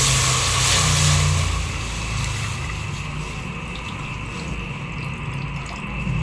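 Water rushes steadily into a small cooking pot for chicken soup, a loud continuous pour that eases slightly after the first couple of seconds.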